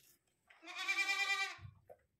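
A young goat kid in a winter shed gives one clear, drawn-out bleat at close range, followed by a short soft rustle. No one speaks.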